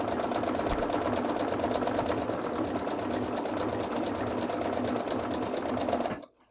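Sewing machine stitching quilt blocks of scrappy 2-inch pieces, a steady rapid mechanical whirr running continuously for about six seconds before stopping abruptly, close and fairly quiet.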